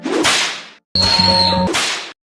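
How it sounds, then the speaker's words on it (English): Whip crack sound effects: two sharp swishing cracks separated by a short silence, with a sustained tonal ringing layered into the middle one, loud and close. "The first thing you'll notice is that the whip sounds are very high quality compared to the scream"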